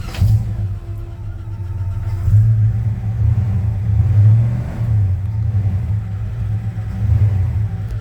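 A 1966 Chevy C10 pickup truck, still cold and with a squeaky belt, rumbles steadily as it is driven slowly around a residential block, its engine swelling gently a few times over a continuous low drone.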